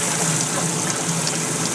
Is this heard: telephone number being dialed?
no